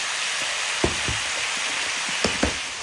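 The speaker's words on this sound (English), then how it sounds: "Listen to that sizzle." Steady, close sizzling of a chicken and vegetable stir-fry in a hot pan, with a few soft clinks and scrapes from stirring.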